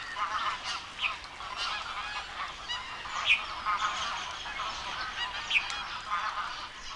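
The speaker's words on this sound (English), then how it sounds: "the marshes are bursting with the arrival of tens of thousands of waterfowl from Siberia, Mongolia," Migrating geese and other waterfowl, newly arrived from Siberia, Mongolia and China, honk across the marshes of Kaziranga, India. Several distinct honks stand out over a steady, fairly distant flock chorus, with no talking.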